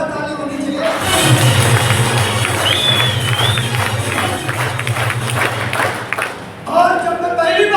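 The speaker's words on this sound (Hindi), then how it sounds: "रतिलाल जी के लिए भी एक जोरदार ताली होनी चाहिए।" An audience at a Yashbiz Marketing business meeting in Kukshi, Madhya Pradesh, applauds with sustained, loud clapping for about five seconds. A voice speaks just before and right after it.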